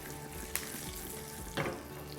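Curry leaves and a green chili hit hot oil for a tadka, giving a steady close sizzle and crackle with two sharper spits as they land.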